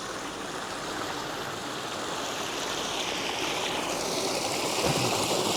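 A strong river rushes past near Benamahoma, a dense, steady roar of churning water heard up close and alone, swelling slightly louder toward the end.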